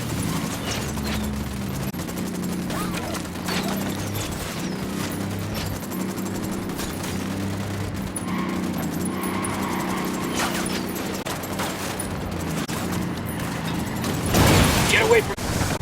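Gunfire in the open-world shooter Ghost Recon Wildlands rattles through a long firefight, with repeated bursts and shots layered over mechanical noise and a low drone, louder toward the end, with voices speaking at times.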